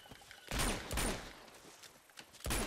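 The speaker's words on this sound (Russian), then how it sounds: "И с Магнума такой туф-туф." Magnum revolver shots ring out in Uncharted: Drake's Fortune, three loud separate booming blasts spaced about a second apart over quiet game ambience.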